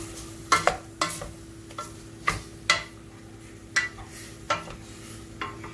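A spoon stirs spices into a pan of taco filling, giving a series of sharp scraping clinks against the pan at an uneven pace over a faint sizzle, close and clear.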